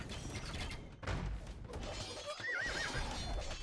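Horses neigh with a wavering whinny amid clattering hooves and battle noise in a strategy video game, a busy steady mix with the neigh standing out toward the end.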